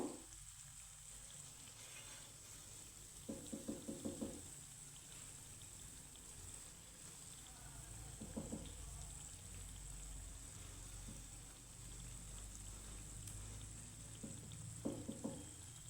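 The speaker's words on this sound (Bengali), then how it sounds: "দিয়ে দিব একইভাবে ভেজে নেব" Food fries in a pan with a soft, constant sizzle, broken by a few short bursts of clinking and stirring as the pieces are turned. The sound stays quiet and moderately close, and nobody talks.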